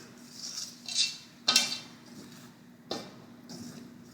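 Hands mixing flour and salt in a bowl in a country kitchen, with a few distinct clinks and knocks against the bowl and soft scraping and stirring between them, close and fairly quiet.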